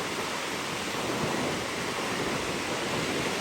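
Waves break and wash continuously at Bondi Beach in Sydney, a steady, broad rushing surf that fills the whole clip at an even level with no voices over it.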